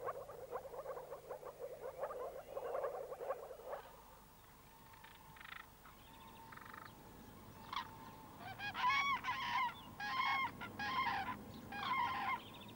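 Cranes back from wintering in Spain and Africa, calling over a wetland, with loud bugling honks in clustered bursts in the second half over a steady chorus of frogs and marsh ambience.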